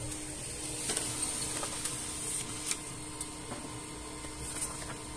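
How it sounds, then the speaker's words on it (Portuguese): An HP LaserJet P1606dn laser printer runs a test page, giving a quiet steady mechanical whir with faint intermittent clicks and ticks throughout, no talking. "para que a impressora comece a fazer a página de teste."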